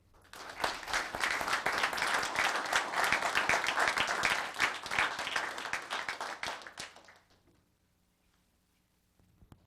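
An audience at a town council meeting claps warmly for departing youth commission members, the dense applause building and holding before tapering into near silence.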